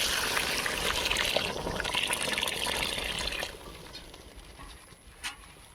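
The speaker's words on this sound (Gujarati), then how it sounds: "હવે નાખી દઈશું પાણી" Water pours into a cooking pot of Gujarati fried-brinjal curry with ginger paste and crushed green chillies, cooked outdoors at a farm; a loud, steady rushing pour fills the first three seconds, then fades to a soft trickle and a small splash.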